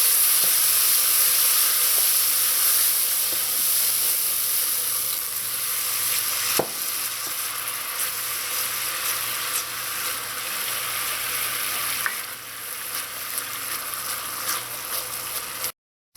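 Water hitting toasted curry paste in a hot pot for Trinidadian curry lobster, a loud continuous sizzle and hiss that slowly settles, with occasional stirring clinks and no talking.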